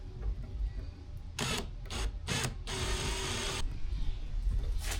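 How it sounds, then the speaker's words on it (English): Hose clamp on a pump sprayer hose being tightened with a powered driver, several short loud whirring bursts followed by one longer run, close over a low background hum. "now we're gonna clamp them down. The hose clamp."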